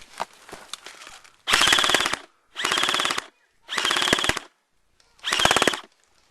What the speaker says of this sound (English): I was the only one shooting at him